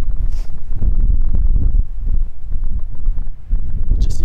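Heavy wind buffeting the microphone in loud, continuous low roaring gusts, with brief rustling bursts, and no voices.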